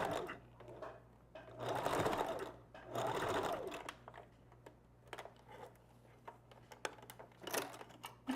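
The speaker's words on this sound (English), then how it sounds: "And then you want to start your stitching. Making sure that you back stitch." A sewing machine stitches and back stitches a wig in two loud, sustained bursts, followed by scattered mechanical clicks and short whirring runs nearby.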